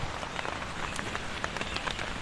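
Steady rain falls and patters on a surface, a continuous close hiss with scattered drop taps throughout and no voices.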